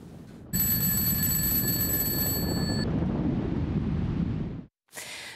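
An alarm clock rings loudly and continuously for a few seconds over a strong rushing wind roar, cutting off before the wind noise drops away.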